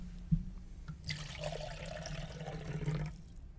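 Liquid poured into an OXO measuring cup, a steady close splashing trickle that runs about two seconds over a faint low hum, then stops.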